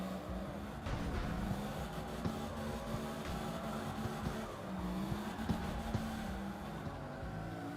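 A car in CarX Drift Racing spins out, its engine droning steadily with faint tire squeal and skidding mixed in, a low, continuous game sound with no voices.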